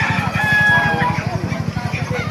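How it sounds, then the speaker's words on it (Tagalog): Gamefowl at a farm in Bukay, Bulacan, among them Pumpkin, White Kelso, Sinibalang, Lemon Sweater, Gilmore and Talisay breeds, with loud nearby rooster crowing over a steady run of rhythmic clucking from the flock. "Papakita ko sa inyo mga manok dito sa Bukay, Bulacan."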